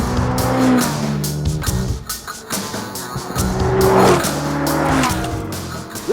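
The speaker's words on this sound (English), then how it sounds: "This is the new Mclaren 570S" A 2016 McLaren 570S sports car drives hard, its engine revving and dropping as the tires squeal loudly through the turns, a close, sustained screech with shifting engine pitch.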